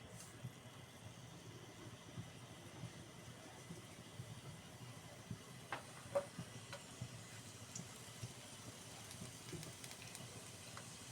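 Onions fry in a pan, giving a faint, steady low sizzle with occasional small crackles and clicks.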